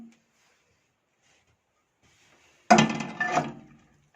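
Grated carrots for gajar halwa tipped into a cooking pot, a single loud rattling clatter lasting about a second after near silence.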